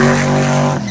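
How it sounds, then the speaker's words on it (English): Drag race car burnout at Drag Week 2022 in Cordova, a loud, steady engine roar with a strong low harmonic drone held for under a second, dropping off abruptly near the end. "Burnout complete for Bailey."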